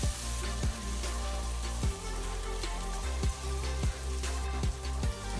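Dry thyme leaves and dry chives are stirred into a hot pan for coconut curry shrimp and broccoli, giving a steady close sizzle broken by regular scraping thumps of the spoon, with no talking.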